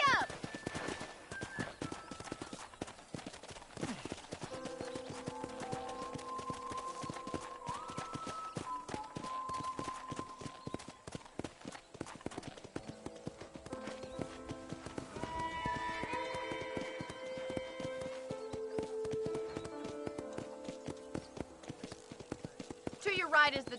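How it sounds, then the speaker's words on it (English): Horse hooves clip-clop steadily through a ranch setting at riding pace, with an occasional whinny, all under music and a running voice. "let's see if you can still ride a horse."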